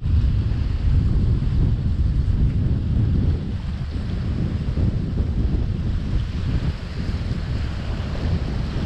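Strong north wind sweeping across a lake during a stormy fishing session, a heavy, continuous rumble of gusts battering the microphone with washing water beneath, easing only slightly midway.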